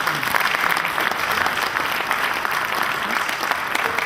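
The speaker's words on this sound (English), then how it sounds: "Another round of applause" Sustained applause from a large banking and finance conference audience, steady and dense for the whole stretch with no break or voice on top.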